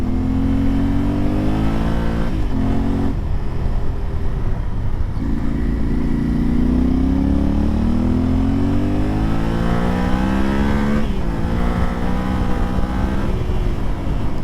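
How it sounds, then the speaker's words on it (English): Adventure motorcycle engine revving hard on an off-road ride in Colorado, a loud continuous mid-pitched drone that rises and falls in pitch as the rider accelerates and shifts, steady throughout with no voices. "Such an amazing engine for off-road."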